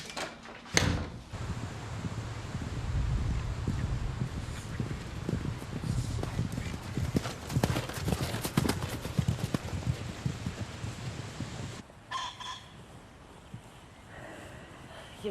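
Horse hooves clip-clop at a steady walking pace while the horse is ridden, mixed with creaks and rustles, before a sharp knock and a quieter stretch near the end.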